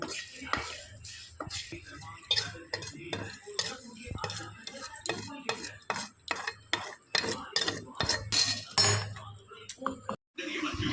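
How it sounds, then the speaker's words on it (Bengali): Coriander, cumin, whole garam masala, peppercorns and dried chilies dry-roasting in a dry pan. Close, busy metallic scraping and clinking of stirring repeats throughout, with only a faint sizzle and no talk. "ভেজে নেব শুকনো খোলায় এতে আছে ধনে জিরে গোটা গরম মশলা গোটা গোলমরিচ এবং শুকনো লঙ্কা"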